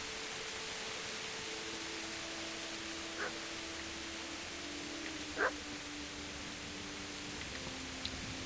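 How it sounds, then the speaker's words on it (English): A dog barks in the medieval video game Kingdom Come Deliverance, a few faint distant yelps over steady rain and a low droning tone. "I can hear a dog."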